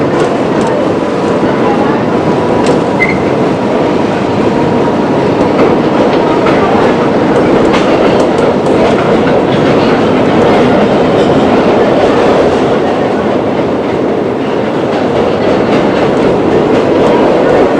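A 1970s–1990s New York subway train rumbles loud and steady as it descends into a tunnel on a sharp right-hand curve, continuous wheel roar with faint clatter throughout.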